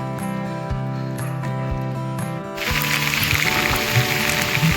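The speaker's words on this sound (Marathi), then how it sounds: "हा असा पाऊस चालू झालेला आहे" A droning harmonic hum with soft rhythmic knocks gives way midway to a sudden broad hiss of falling rain that continues to the end, on a foggy path at Sondai Fort, Raigad district, Maharashtra.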